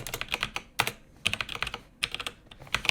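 Close, quiet computer keyboard typing at a desk, uneven bursts of clicking keystrokes with short pauses, no voice over it.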